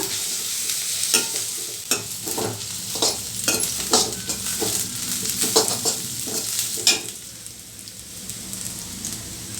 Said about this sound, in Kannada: ಇದನ್ನು ಫ್ರೈ ಮಾಡಬೇಕು ಇದು ಬೇಗನೆ ಬೇಯುತ್ತೆ